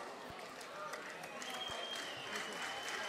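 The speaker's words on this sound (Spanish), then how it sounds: "el aplauso por parte del respetable, alentando a David Félix" Crowd applause at a live boxing event, a steady wash of clapping and cheering from the audience around the ring throughout, with a commentator talking over it.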